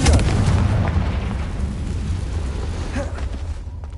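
A Confringo spell explodes in Hogwarts Legacy as a loud, rumbling blast at the start that fades slowly into a low roar over several seconds.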